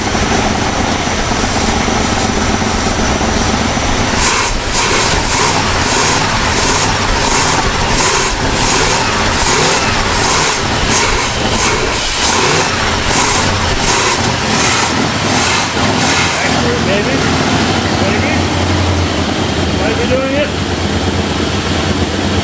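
A big block Chrysler engine, run again after 35 years, roars loud and rough at close range with an exhaust leak, revving repeatedly under continuous talking.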